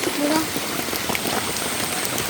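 Steady heavy rain pours onto a paved road during a downpour, a dense continuous hiss of drops close by with a brief faint voice-like tone near the start.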